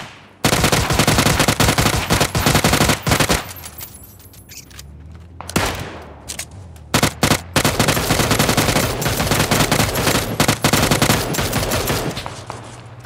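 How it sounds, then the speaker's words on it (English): Gunfire in the video game PUBG, rapid bursts of loud automatic shots with sharp single cracks, a pause mid-way with engine rumble before more volleys close by. "he's shooting at us from the opposite way"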